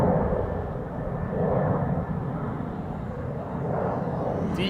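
A DHL cargo aircraft bound from Frankfurt to Toronto rumbles past at Schiphol Airport, a steady, moderately loud engine roar that swells and fades slightly.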